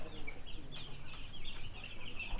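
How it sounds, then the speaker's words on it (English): Many chickens cluck and chatter together in a dense, continuous murmur inside a brooding-house barn on a Texas farm, echoing slightly. "There's a ton of chickens in here."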